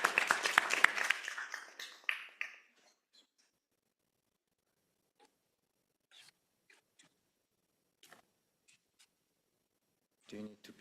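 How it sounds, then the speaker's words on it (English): An audience at an education and technology event applauds briefly for a speaker, a loud burst of clapping that fades within a few seconds, followed by near silence with scattered faint taps. "Let's give Dr. Bach a round of applause."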